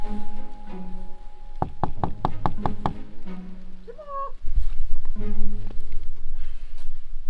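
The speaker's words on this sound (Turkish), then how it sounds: "Gidelim kapısını çalalım bakalım." A rapid series of about six sharp knocks on a door rings out, with a steady hum and a short electronic chirp around it.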